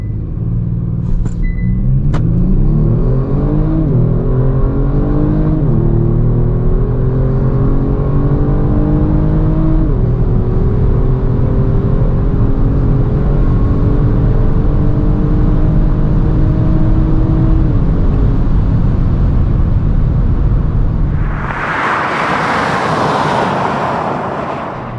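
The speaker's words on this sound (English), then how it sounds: "And let's see how fast the car really is." A 2021 Kia Stinger GT facelift launches hard on a quarter-mile acceleration run, its loud, close engine note climbing steadily through several gear changes. A brief rushing burst comes near the end.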